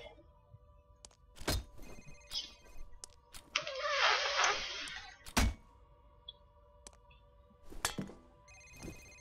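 A phone rings in the video game FEAR, with repeated electronic ringing tones mixed with sharp thuds and clatter from gameplay, fairly close and moderately loud.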